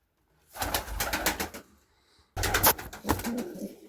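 Inside a pigeon coop in -14 frost, near a single newly hatched chick, two close bursts of throaty pulsing pigeon sound are separated by a short silence.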